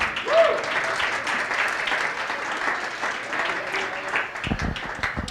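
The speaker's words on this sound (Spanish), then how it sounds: "Denle un aplauso al Señor." A congregation at a Spanish-language church service for Children's Day breaks into applause, dense steady clapping that continues for several seconds, with a brief voice near the start and a few louder handling thumps at the end.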